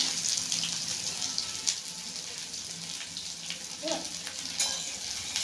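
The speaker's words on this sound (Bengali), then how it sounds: "তারপরে এই যে পেঁয়াজ দিলাম।" Onions frying for chicken kosa, a dense continuous sizzle and crackle in a hot pan with occasional stirring scrapes, close and steady, with a faint voice now and then in the background.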